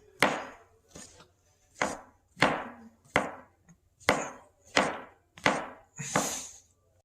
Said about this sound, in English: From there on, I'll be doing the mushrooms. I'll cut it on an even side with even slices.